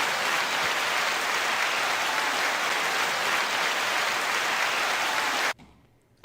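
An audience bursts into sustained, even applause, a thick wash of many hands clapping that holds steady for several seconds and then cuts off abruptly to near silence.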